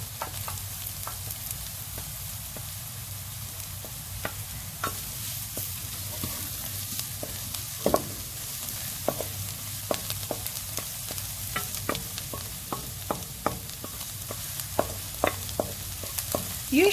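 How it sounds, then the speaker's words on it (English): Onion and red bell pepper frying in a pan for Filipino spaghetti, a steady close sizzle with scattered crackles and occasional scraping stirs throughout. "it's just the onion, but some of the red bell pepper wants to join the party already"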